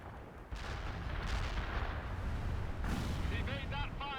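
Artillery fire support in the World in Conflict video game arrives as a continuous roar of heavy booms and blasts that masks most other sound. Radio voices speak over the bombardment.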